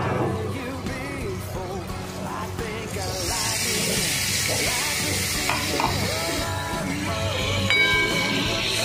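Chilli powder, Kashmiri chilli and ginger-garlic paste fry in a pan, giving a steady close sizzle with scraping stir strokes and faint tonal sounds in the background.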